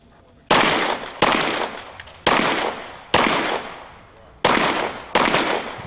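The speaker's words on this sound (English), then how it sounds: "Ken Hackathorn is shooting a Beretta" Beretta pistol fired at a shooting competition stage, six sharp loud shots in an uneven sequence with short pauses between them, each ringing out and decaying.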